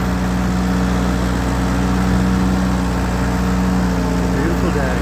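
A 1948 Ford 8N tractor runs while being driven, its engine a loud, steady low chugging drone with a continuous hum carrying throughout.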